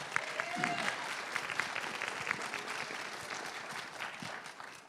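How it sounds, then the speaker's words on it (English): Sustained audience applause fills a city council district candidate forum, a dense, steady wash of many hands clapping at moderate level, with a few faint voices mixed in. "Big round of applause."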